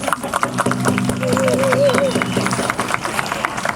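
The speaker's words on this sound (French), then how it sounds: "Puis je crois qu'il mérite une main d'applaudissement" An outdoor crowd at an Indigenous Peoples Day celebration by the Montreal Old Port Clock Tower breaks into steady applause, with cheering and voices mixed in and a brief tonal whistle rising through the middle.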